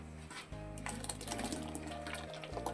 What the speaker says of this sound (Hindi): ये मेरे पास 3 लीटर पानी है, ये शामिल कर रहा हूँ कढ़ाई में।